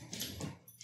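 Dogs in the background whimper and yip in short, high bursts, faint and indoors, several small sounds packed into under a second, with no speech.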